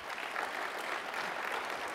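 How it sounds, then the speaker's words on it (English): A large university summit audience applauds, a soft, steady patter of many hands clapping heard from some distance, evenly sustained without pauses. "Give yourselves a round of applause for that."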